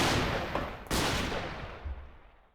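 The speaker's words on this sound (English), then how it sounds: "Oh, shooting that guy up there." Gunfire in a modded Minecraft game: one sharp, loud burst of shots near the middle, then a smaller report, fading into a rumbling tail with no talking.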